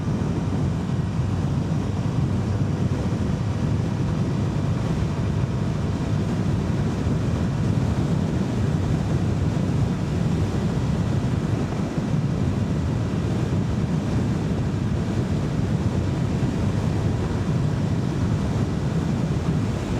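Steady wind roar buffets the rider of a CFMOTO 300SS motorcycle cruising on the highway, a loud continuous rush with the engine buried underneath and no break throughout.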